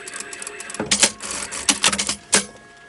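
Sewing machine stitching the fabric of a handmade rag doll, heard as several short bursts of mechanical whirring and clatter separated by pauses, fairly close and without talk.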